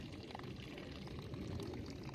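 Creek water flowing past big icicles beneath large cedar trees on a winter hike, a steady low rushing and trickling wash, fairly faint and continuous with no talk.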